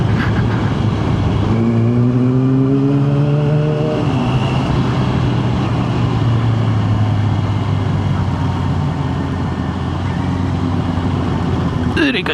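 A motorcycle engine drones steadily while riding, with a rising rev near the start, loud and close throughout with wind and road noise.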